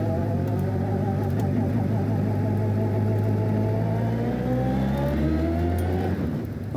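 MK Sport 200 car powered by a Suzuki Hayabusa motorcycle engine pulling away on the road, its engine note droning steadily and rising in pitch as it accelerates, loud and continuous throughout.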